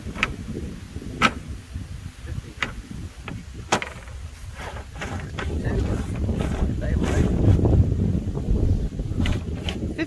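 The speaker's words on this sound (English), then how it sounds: "that wind's kind of cold" Cold wind gusts across a microphone outdoors on a rural property, a steady low rumble that swells toward the end, with scattered knocks and someone talking intermittently.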